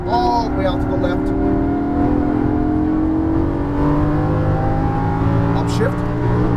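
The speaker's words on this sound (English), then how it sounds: "Off the throttle to the left, accelerate full power." Lamborghini Gallardo LP550-2 accelerating at full power on a track, its engine note climbing loudly and steadily from inside the cabin as a voice talks over it.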